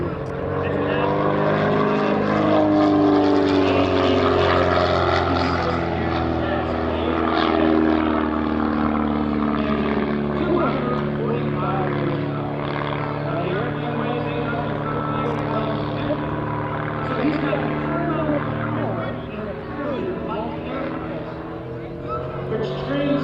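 An aerobatic propeller plane flown by Jason Flood at the 2024 New Garden Airshow drones loudly and continuously overhead, its engine note rising and falling as it maneuvers, with an announcer speaking over it.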